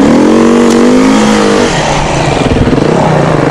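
A Suzuki DRZ 400 motorcycle on a large gravel pit roars loud and close, its engine revving up through rising pitch and then pulsing as it pulls away, with no voices over it.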